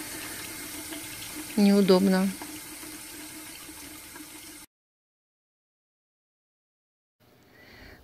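Hot water runs steadily from a short-spouted mixer tap in a Pattaya hotel room while someone speaks a single short word, then the flow cuts off into silence, with faint sound returning at the end.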